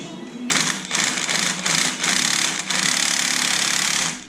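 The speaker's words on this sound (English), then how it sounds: "so we can loosen up these bolts" Bursts of a pneumatic impact wrench loosening exhaust bolts under a Camaro SS during a high-flow catalytic converter install, a few short rattling hits followed by a longer sustained burst, loud and close.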